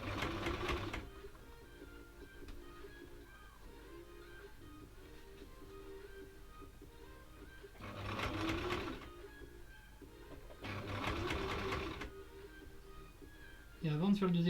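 Sewing machine stitching a seam along the folded edge of faux leather, running in a few separate bursts between quieter stretches where a person talks.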